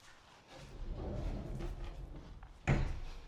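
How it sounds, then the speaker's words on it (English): A sliding barn door on a storage space in a wooded-acreage home rolls open with a low, continuous rumble, then ends in a sharp wooden bump near the end. "So these really cool sliding barn doors"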